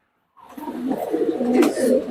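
Pigeons in a loft of mixed breeds such as teddy, kamagar and racer birds coo close by, a steady run of low throaty rolling coos starting after a brief silence and continuing alone.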